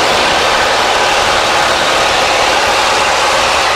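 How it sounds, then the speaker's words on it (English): Steady loud roar of a Southwest Airlines airliner's engines heard from inside the cabin during the climb just after takeoff as the landing gear retracts, a dense continuous rushing noise with no talking. "Landing gear coming up."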